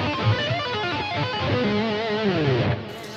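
Distorted electric guitar riff with dense, ringing notes, ending in quick tapped runs that climb before the sound cuts off.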